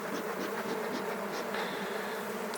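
Bees buzz continuously nearby in a dense, droning hum, with individual insects whirring past now and then; no voices.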